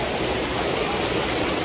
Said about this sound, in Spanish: Bendita lluvia, hacía falta.